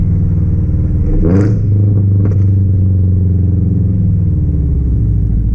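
A Subaru BRZ fitted with a Tomei Type 80R exhaust downshifts, a loud, steady engine drone with a brief rise in revs and a couple of crackling blips from the exhaust.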